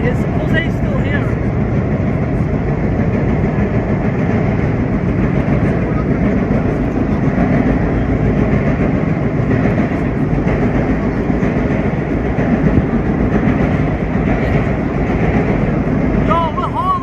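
A museum R1-9 subway train runs fast along the Second Avenue line, with a loud, continuous roar and rattling wheel noise throughout while voices talk over it.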